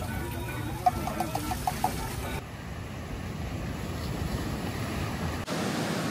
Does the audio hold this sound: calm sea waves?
yes